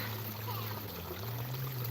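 Water pours steadily through an undersized corrugated galvanized culvert pipe, a continuous rushing flow with a low hum beneath it.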